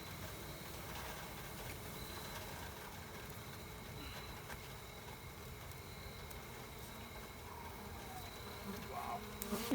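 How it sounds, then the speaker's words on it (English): A large honeybee hive behind a house chimney fills the air with a dense, steady buzzing of many bees, close and continuous throughout. "there's a lot of bees in here and they just got done getting vaxxed, so they could be kind of testy"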